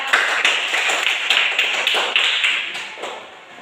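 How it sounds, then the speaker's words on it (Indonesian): A classroom group of students claps in a quick, steady rhythm, a crisp pattern of sharp hand claps repeating about twice a second for several seconds before trailing off. "Jadi kita tepuk tangan dulu buat Santa."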